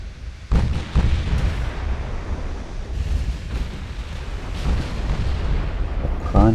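Naval main guns firing in Ultimate Admiral: Dreadnoughts, heavy booming salvos that open sharply, then a sustained low rumble with further distant thuds layered over it, loud throughout.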